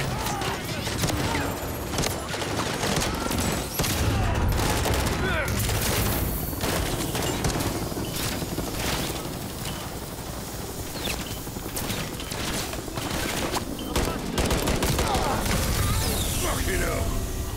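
Gunfire at a helicopter in Call of Duty Modern Warfare 3: sustained rapid automatic bursts and scattered shots, loud and continuous, mixed with mechanical clatter while voices speak over the firefight.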